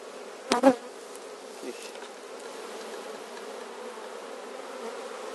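A dense, steady drone of many honeybees buzzing close by on five large hive frames, continuous throughout, with a couple of brief knocks near the start.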